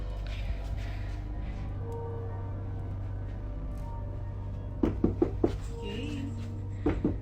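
Knocking on a door at night, a quick series of sharp raps near the end following quieter ambience, with faint speech in the background.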